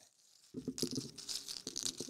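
Close, crisp crunching and chewing breaks in sharply after a quiet moment and repeats in quick irregular bites, with no talking.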